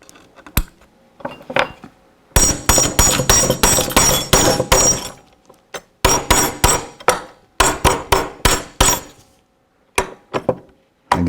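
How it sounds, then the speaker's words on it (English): Sharp, close hammer blows drive a pin into the receiver of a Daisy Model 1903 drill rifle, coming in quick bursts of rapid taps separated by brief pauses, with a few scattered lighter knocks. "Now we can install our barrel to our receiver assembly and hammer in the pin."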